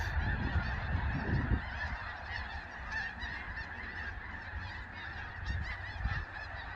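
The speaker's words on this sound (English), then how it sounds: "there's a lot of geese" Countless distant geese honk together in an unbroken, busy chorus, with a few low rumbles of wind or handling underneath.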